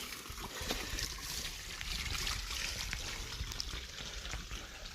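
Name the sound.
water trickling from a fountain outside a mountain refuge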